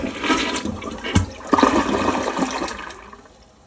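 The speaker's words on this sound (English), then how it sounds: "Close-up flush." A Gerber Viper Ergoheight toilet flushes up close in a home bathroom, a loud rushing gush of water with a sharp surge midway that tapers off toward the end, with no voices.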